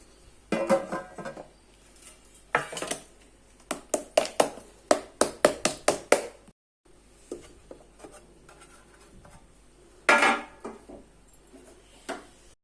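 Traditional Mysore pak made without ghee is moved onto a plate, heard as bursts of sharp taps, clinks and scrapes of a utensil against the plate and pan, with quiet pauses between them.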